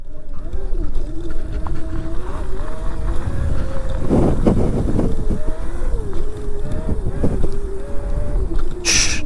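A 72-volt Razor MX650 electric dirt bike with a welded freewheel rides over grass, its motor whining steadily and close, with shifting pitch and a rider's shout near the end.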